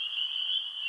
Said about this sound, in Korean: 어디선가 구슬프기 그지없는 개구리의 울음소리가 들려왔습니다.